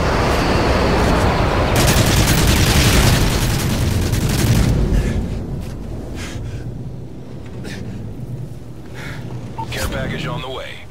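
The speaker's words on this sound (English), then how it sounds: "Nighthawk, you are cleared for bomb run on grid 2." Loud, continuous rumbling booms and blasts from an airstrike bomb run roll through a Modern Warfare 3 battlefield during Drop Zone play, heaviest for the first few seconds before easing into scattered cracks and bursts.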